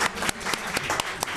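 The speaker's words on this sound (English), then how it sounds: "Give them all a round of applause." Dense, steady applause from an audience at a quiz bowl competition, a continuous wash of many hands clapping at close range with no voices on top.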